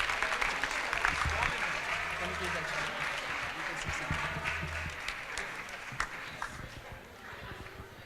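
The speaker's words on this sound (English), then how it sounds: "Can we give a round of applause to Lord Mayor of Bradford" Crowd applause at a students' union leadership results event welcoming the Lord Mayor of Bradford, dense sustained clapping that slowly thins and fades toward the end.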